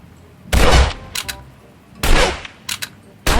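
A firearm in the hunting game Open Country fires two loud, booming shots about a second and a half apart, each trailed by shorter echoing cracks, with a third blast starting at the very end.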